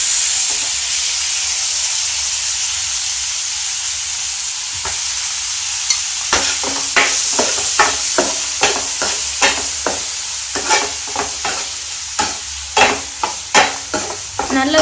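Paneer frying in melted ghee in a pan, a steady bright sizzle with repeated scraping stirs that grow more rhythmic partway through, close and loud.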